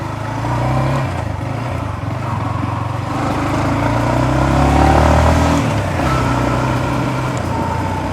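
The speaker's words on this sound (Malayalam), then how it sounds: "ആ എക്സോസ് നോട്ട് കേട്ടോ ഞാൻ നേരത്തെ പറഞ്ഞ പോലെ തന്നെ നല്ല രസമുണ്ട്" A Yamaha XSR 155 retro motorcycle's exhaust burbles steadily while riding, rising and falling gently with throttle, close and fairly loud with no talk over it.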